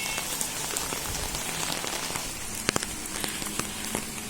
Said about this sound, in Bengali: বর্ষার দিন বৃষ্টি হচ্ছে